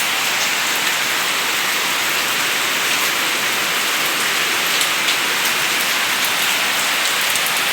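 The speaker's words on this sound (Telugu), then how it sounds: "మళ్ళీ మొదలైందండి వర్షం ఆగినట్టు ఆగింది మళ్ళీ మొదలైంది" Heavy rain falling steadily outdoors, a dense, even hiss with no pauses, loud and close throughout, with no voices heard.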